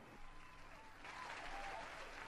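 A crowd at a fantasy tournament cheers and applauds, a broad wash of clapping that swells louder after the first second, heard at a moderate distance.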